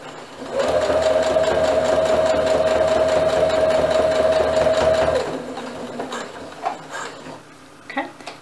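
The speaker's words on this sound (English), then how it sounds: "It's very important to backstitch." A sewing machine runs steadily while backstitching a fabric face mask, a loud continuous whir with a steady motor hum for about five seconds, then stops and leaves quieter handling clicks and rustles.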